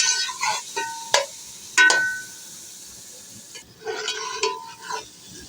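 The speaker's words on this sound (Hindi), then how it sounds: "अभी जो है इनको मिक्स करके अच्छे से भुनाई कर लेंगे।" Spices are stirred and roasted in a curry over a clay stove, with a sizzle interrupted by a few sharp scraping strokes and clattery stirring bursts, close and fairly loud, no speech.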